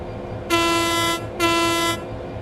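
Two long, loud train horn blasts from a locomotive in the Train Sim World 3 game, each lasting under a second with a brief pause between, sounding over a low rumbling engine bed with no talking.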